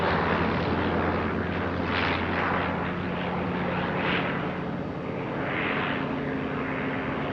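Aircraft fly an aerial demonstration at the Russian Air Force 100th anniversary, with a loud, continuous engine drone that swells and fades slightly as planes pass overhead.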